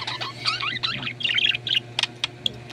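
Pet budgie parakeets chatter close by in rapid, warbling chirps and varied whistled calls, ending in a few sharp separate chips over a steady low background hum.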